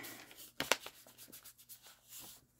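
A sponge blender rubs ink onto a journal page, giving soft, quiet scrubbing strokes with a couple of sharper scuffs, close and faint.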